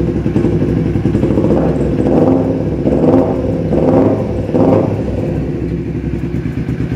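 A carbureted Kawasaki Ninja 250R motorcycle engine idles close by with a steady chugging throb, briefly revving a few times in quick succession before settling back.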